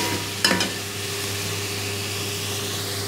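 Chicken browns in a pot for korma pulao, giving a steady, close frying sizzle and hiss throughout. A brief scrape of stirring comes near the start.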